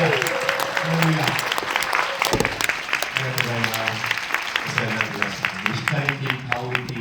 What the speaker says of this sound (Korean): 자리에서 일어나시고 큰 박수로 맞이하겠습니다.